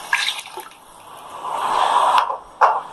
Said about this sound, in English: for 4 cups I've taken 8 cups of water